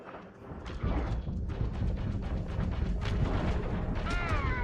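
Spaceship missiles firing in the Star Citizen video game, a dense run of rumbling booms and thuds closely spaced, loud and continuous, with a whining tone rising near the end.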